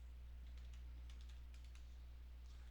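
Someone types on a computer keyboard, with quick bursts of faint key clicks over a steady low electrical hum, and no speech.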